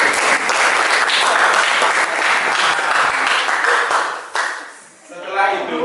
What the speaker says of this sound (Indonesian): Tepuk tangan buat wanita ini.